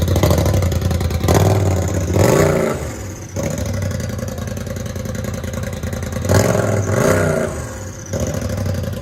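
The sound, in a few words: Polaris RZR XP 1000 Turbo engine revving, straight pipe exhaust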